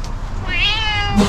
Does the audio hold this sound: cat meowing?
yes